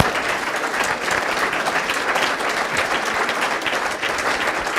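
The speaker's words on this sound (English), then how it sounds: "let's give these two a very warm round of applause" A lecture-hall audience at a New School public event gives a warm round of applause, broad dense clapping from many hands sustained at an even level throughout.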